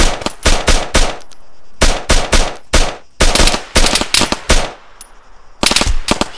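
Loud, close automatic rifle fire from the military shooter game ARMA 3 comes in repeated short bursts separated by brief silent gaps.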